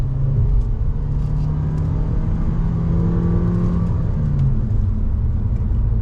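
A 2021 Nissan Kicks front-wheel-drive small SUV accelerates hard on throttle, its engine a steady loud droning rumble with rising whir from inside the cabin, continuous throughout.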